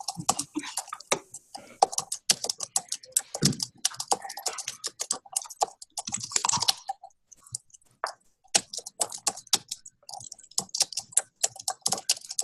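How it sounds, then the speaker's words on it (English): Rapid clicking of a computer keyboard, bursts of keystrokes with short pauses, fairly close and steady throughout. "I can hear everybody's typing."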